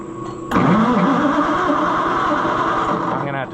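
An old Oliver Super 77 tractor engine cranks and catches with a sharp start, then runs steadily with a loud, rough mid-pitched chug before cutting off near the end.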